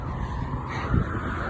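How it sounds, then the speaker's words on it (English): Cars passing by near a tunnel, a dense, continuous road roar with a slight swell about two-thirds through, no voices. "The beautiful sound of the cars."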